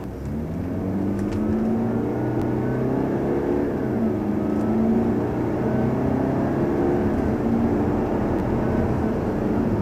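A Jaguar XE's engine hums and rises steadily while driving, heard from inside the cabin as a loud, continuous drone with slow swells in pitch and no talking.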